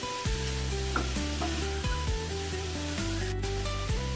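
Tomatoes are stirred and fried together with other ingredients in a pan. A continuous soft sizzle with occasional stirring scrapes runs under prominent tonal background music.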